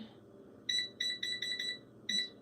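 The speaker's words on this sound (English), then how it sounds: "I'm gonna turn the air fryer on." An air fryer being switched on gives a series of short, bright electronic beeps, six quick tones in an uneven rhythm, close and clear against a faint background hum.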